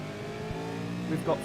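A V8 Supercar engine in a racing simulator game drones steadily at high revs with onboard engine harmonics, a commentator talking over it.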